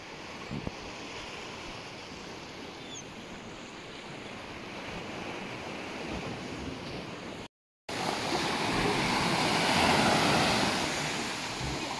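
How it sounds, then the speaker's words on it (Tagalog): Ocean surf roars in a steady wash of broadband noise, briefly cut off, then returns louder as the waves crash. "Laki pa ng alon."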